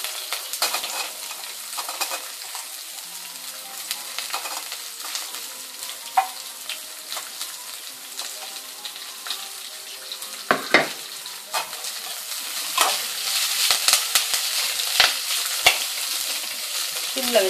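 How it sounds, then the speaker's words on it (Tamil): Ridge gourd pieces fry over a medium flame in a pan with a soft, steady sizzle, broken by scattered scraping stirs and clinks. The sizzle grows slightly louder toward the end, with no talking. "வச்சு மீடியம் ஃப்ளேம்ல வச்சு நல்லா ஃப்ரை பண்ணிக்கோங்க"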